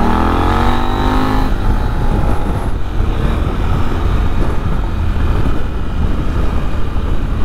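A KTM 890 Adventure motorcycle being ridden in wet conditions: loud, close engine with a rising rev at the start, then a steady rumble mixed with wind buffeting, no talk.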